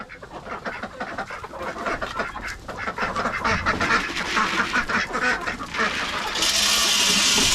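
Ducks on a farm quack repeatedly in winter, a busy, fairly close chorus of overlapping honking calls building in loudness, with some rustling and no talk.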